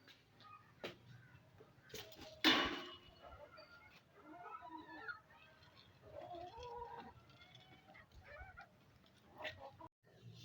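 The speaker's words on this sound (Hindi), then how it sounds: "मैं डालती हूँ मुर्गियों को दाना" Hens cluck and murmur softly in a rooftop setting, with a brief rattling scatter of grain poured for them and occasional rustling nearby.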